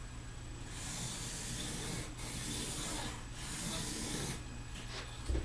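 A pen or marker drawing a reference waistband line on a peasant blouse pattern, a soft, steady scratchy hiss in a few long strokes separated by brief pauses, quiet and close, with no talking.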